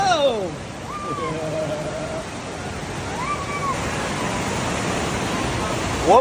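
Rushing water on the Kaeng Yui waterfall trail in Laos makes a constant, loud hiss close by, while voices and a few high whistling calls rise briefly above it.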